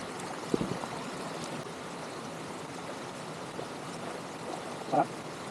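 A stream flows steadily with a constant soft rush, broken by a couple of small splashes or knocks as a bottle is filled.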